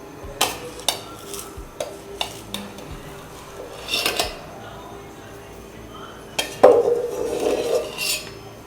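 Mixed rice-flour and jaggery dough for anarsa being scraped out of a vessel onto a plate, with scattered clinks and scrapes of a spoon against metal, then a louder rattling clatter near the end, close and without speech.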